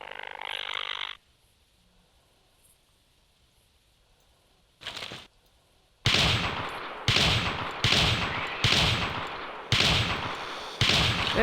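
Gunfire from a shotgun in the hunting video game Carnivores Triassic: a short burst and a lone shot, then a string of six loud, evenly spaced blasts.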